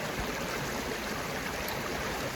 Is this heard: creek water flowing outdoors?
yes